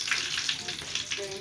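Spices tempering in hot oil for Karnataka-style puffed rice, with curry leaves going in first: a steady, dense crackling sizzle close by that keeps going without a break, with a few short higher pops near the end.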